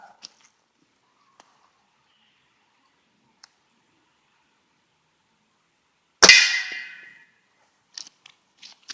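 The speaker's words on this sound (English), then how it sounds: "I'll shoot that propane tank. It's empty, so." A single sharp gunshot strikes an empty propane tank with a loud metallic clang and a brief ringing decay, set in near silence broken only by a few faint clicks before and after.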